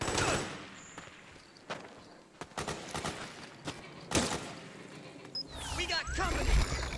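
Bursts of suppressing gunfire in the video game Metal Gear Solid 4: Guns of the Patriots, scattered shots and rattling volleys over a battle din, with shouted voices in between.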